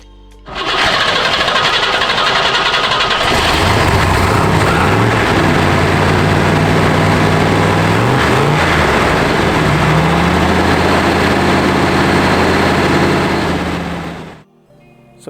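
A 1967 Corvette Stingray convertible with a 327 engine runs steadily, a loud continuous rumbling drone with shifting low tones held for about fourteen seconds before cutting off.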